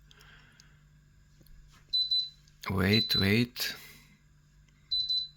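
An oven control panel gives short, bright electronic beeps, one near the start and another at the end, separated by a brief stretch of a person speaking over a low steady hum in a quiet kitchen.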